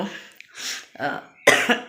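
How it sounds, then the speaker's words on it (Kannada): A few separate coughs, close and moderately loud, with short pauses between them, the last one the strongest. "ಕೆಮ್ಮು ನೋಡಿ"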